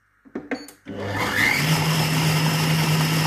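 After a few knocks and clicks, a blender spins up to speed 7 re-mixing apricot ice cream mixture, a loud steady motor whine with a rising pitch that settles into a sustained hum.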